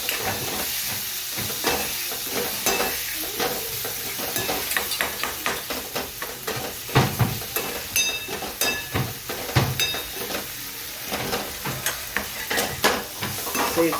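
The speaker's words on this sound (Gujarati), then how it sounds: "સરસ આપણે શેકાવા દઈએ મસાલો." Masala and onion for a masala dosa filling fry in a pan, a steady close sizzling hiss broken by frequent scraping and tapping of a stirring spoon, with no one talking.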